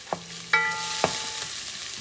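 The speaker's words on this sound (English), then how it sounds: "Going to saute this baby, caramelize." Food sautéing and caramelizing in a pan for pumpkin and pork stew, with a steady close sizzle and a few sharp clinks of a utensil against the pan.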